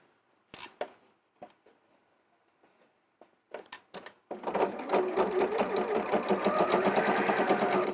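Appliqué is stitched onto a cushion on a sewing machine: a few short clicks and brief bursts of handling come first, then the machine runs continuously and close up for the rest of the clip.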